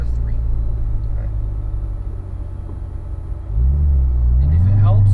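A car engine rumbles steadily under braking, then at about 3.5 s a throttle blip lifts the revs into a rising, wavering pitch as it drops from fourth to third gear, loud and close.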